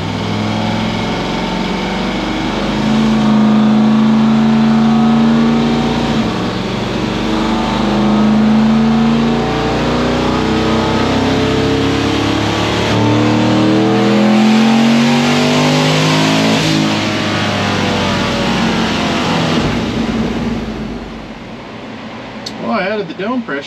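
A turbocharged car engine running hard on a dynamometer gives a loud, sustained drone with pitch sweeps rising and falling over about twenty seconds, then cuts off abruptly near the end.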